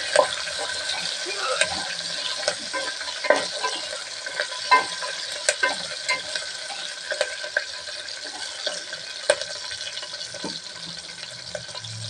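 Curry leaves and green chillies fry in a pan for a tamarind taro curry, a thin, steady sizzle with irregular spatula scrapes and knocks, fairly close and unaccompanied by talk.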